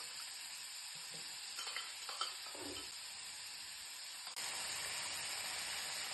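Coriander, cumin and turmeric powders fry in oil over a medium gas flame, giving a steady close sizzle with a few brief stirring scrapes and a louder hiss near the end.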